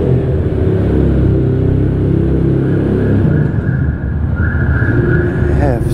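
A Suzuki GSX-S1000 motorcycle with a Two Brothers exhaust rumbles loud and close, its deep throaty engine note rising and falling in uneven revs throughout without a break.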